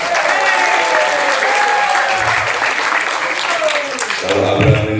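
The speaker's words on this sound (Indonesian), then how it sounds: "Tepuk tangan untuk seluruh ibu-ibu." Audience applause for mothers during a talk to young people: steady, loud, sustained clapping from a crowd, with some voices and cheers mixed in.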